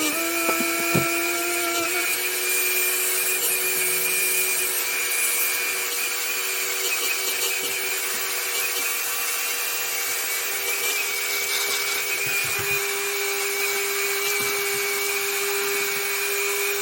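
A vacuum cleaner sucks trash out from under sofa cushions in a run-down house, its motor whining loud and steady throughout after a brief clunk at the start.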